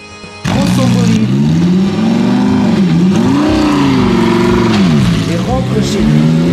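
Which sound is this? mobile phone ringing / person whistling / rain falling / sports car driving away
sports car driving away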